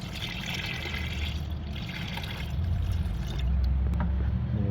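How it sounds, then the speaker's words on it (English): Radiator stop leak fluid pours slowly from a bottle in a continuous watery trickle, the splashing growing heavier and louder toward the end. "I'm gonna pour it slowly so the fluid or the water can come out"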